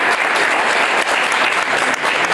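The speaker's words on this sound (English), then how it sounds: "So I'd like to have a round of applause for them there." A crowd applauds at a Hanukkah menorah lighting ceremony at the U.S. Capitol, giving a sustained, even round of clapping that fills the whole stretch, loud and close, with no voices on top.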